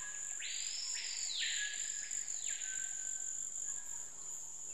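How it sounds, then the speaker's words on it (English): Screaming piha calling from the high canopy of the Guyana rainforest: two or three loud, sweeping whistled notes rising and falling over a steady high insect drone. "The iconic sound of the South American rainforest comes from the screaming pija, a bird which inhabits the high canopy where mist nets cannot reach."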